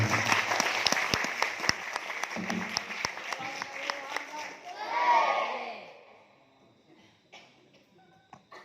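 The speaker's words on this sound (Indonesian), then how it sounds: "Tepuk tangan ya." Audience applause at a competition event at an Indonesian Islamic boarding school, dense clapping for about five seconds before thinning out, with a swell of crowd noise near the end and faint voices afterward.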